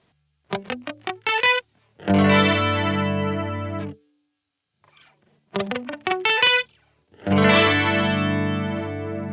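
An electric guitar through an Old Blood Noise Endeavors Screen Violence pedal plays quick picked runs followed by sustained wobbling chords, warbling with a lo-fi vibrato; the pattern repeats twice with short silences.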